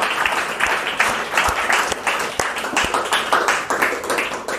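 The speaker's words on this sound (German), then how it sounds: "Da würde ich vielleicht nochmal einen kleinen Applaus oder auch einen großen Applaus für Roland Brückner, unseren Zeichner." An audience applauding at a science talk on proteins, with dense, even clapping from many hands sustained close and loud for several seconds.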